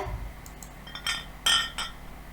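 A few light glass clinks, jars tapping against each other in quick separate knocks, close and fairly quiet.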